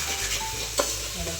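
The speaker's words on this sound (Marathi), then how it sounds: "चांगल्यापैकी फ्राय करायचं." Vegetables frying in oil in a pan for pulav, with a steady close sizzle and the scrape and clatter of stirring, one sharper knock partway through.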